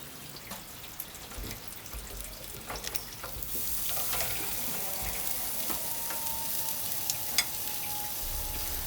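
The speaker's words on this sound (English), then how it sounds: "Place the ribs on a heated grill and start brushing on the barbecue sauce." Barbecue-sauced pork ribs sizzle softly and steadily on a heated grill, a faint continuous crackle with scattered small pops and ticks throughout.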